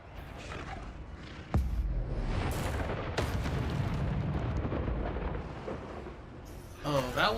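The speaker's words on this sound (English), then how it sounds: "Oh, that was just indoor lightning." Indoor lightning thunder in the video game Hogwarts Legacy: a sharp, loud crack strikes, then a second crack, over a long rolling rumble that fades slightly before a final swell.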